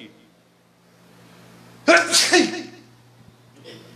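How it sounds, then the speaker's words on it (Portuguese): One loud, close sneeze bursts out after a quiet room tone, with a sharp explosive onset and a brief trailing exhale, followed by faint background noise. "Eu vou espirrar, pode?"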